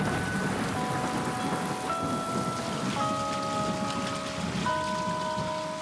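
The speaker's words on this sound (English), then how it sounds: "Rain is good." Steady rain falls in a constant, dense hiss throughout, with a few sustained musical tones layered faintly on top and no voices.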